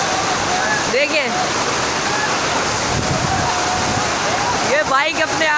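Fast-flowing floodwater rushes along Shahrah-e-Faisal in Karachi after heavy rain, a loud continuous roar with splashing that carries motorbikes along, while someone talks over it throughout and vehicle horns sound briefly.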